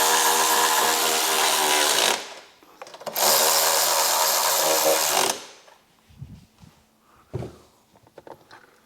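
Power tool tightening the rear bolts on a Harley Davidson during a Hertz Stage 4 install, two loud sustained bursts of whirring with a short pause between, then quiet clicks and handling noises.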